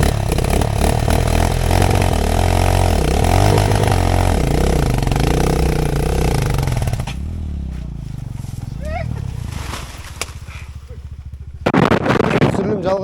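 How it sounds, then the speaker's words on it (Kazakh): Enduro motorcycles ridden and revved on open flat ground in the mountains, with a loud, continuous close engine drone and rising, falling revs for the first seven seconds, then quieter idling and a renewed burst near the end. "мотоциклдерді көтеріп, дрифт жасап"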